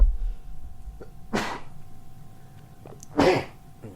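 Two short, sharp sneezes close to the microphone, a quick burst then a louder one a couple of seconds later, over a quiet background.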